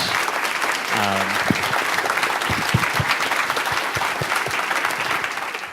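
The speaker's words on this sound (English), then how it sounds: "can we give our panelists a round of applause?" Steady, dense applause from an audience fills the whole stretch, with a brief voice heard near the start.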